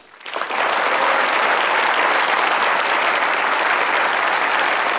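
A studio audience at a Pakistani comedy talk show breaks into applause after a brief quiet moment, swelling quickly into loud, dense, sustained clapping that holds steady until the end.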